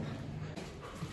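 A dog whimpers softly close by, a short, faint whine over low background noise.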